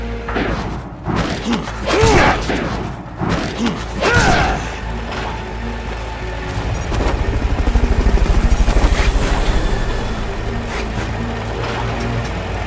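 A helicopter in Metal Gear Solid: Peace Walker beats with a rhythmic rotor chop that swells and holds loud, following a few heavy thumps and mechanical clanks.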